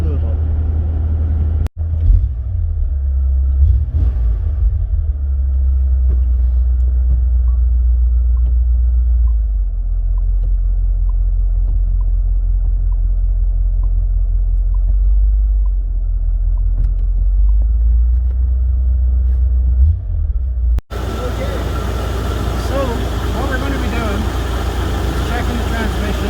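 A daily-driver car's engine sits in the garage, running with a deep, loud rumble whose pitch rises and falls as it is worked through the gears. Near the end the sound shifts sharply to a brighter, noisier tone.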